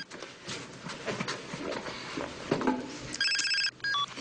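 Telephone ringing in a Polish drama scene, a short electronic ring burst with a second shorter burst after a pause, heard near the end over a noisy room background.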